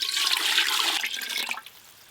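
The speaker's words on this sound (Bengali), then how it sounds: "এই যে হাঁড়ি চাপিয়ে দিলাম, এবার হাঁড়িতে জল দিয়ে দেব।" Water pours from a vessel into a cooking pot set on the stove, a rushing splash that holds steady for about a second and a half, then quickly tails off into quiet.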